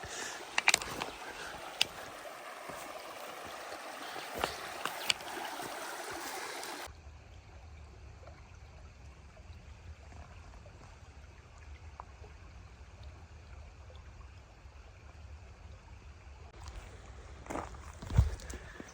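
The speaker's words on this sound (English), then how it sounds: "I shouldn't call it a river, it's a tiny stream" A small stream in Lerderderg State Park trickles and burbles over rocks as a hiker crosses, a steady soft water wash with occasional light knocks and footsteps, no talk.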